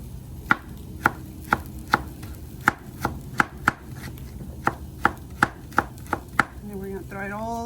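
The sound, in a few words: chopping pineapple and onion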